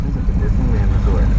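Motorcycle engine of an older bike running steadily while riding around the block, a continuous low rumble that stays loud and close throughout.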